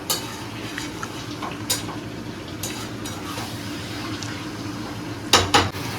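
Chicken frying in a kadai over high heat for chicken chaap, a low steady sizzle broken by sharp clinks and scrapes of a metal spatula against the pan, two loud knocks near the end.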